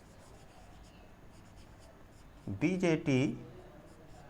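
Chalk or marker scraping across a board during an electronics lecture on BJT saturation, a faint continuous scratching under the room hum, then a voice speaks briefly near the end.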